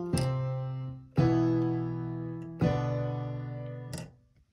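Piano chords from the FNaF movie intro ring out one after another, each struck firmly and left to sustain and decay before the next, with a final brief strike.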